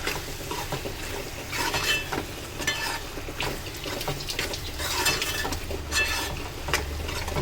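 A spoon stirs prawn and ivy gourd curry in a pan, giving repeated scraping and clinking strokes over a soft, continuous sizzle, close and without talk.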